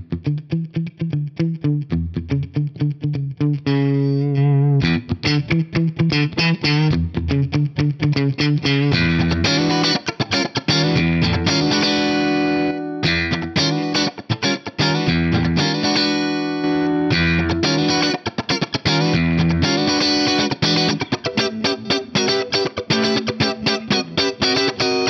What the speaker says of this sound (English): the pedal compressor 2 with very similar settings on there also sounds fantastic. Let's hear that one.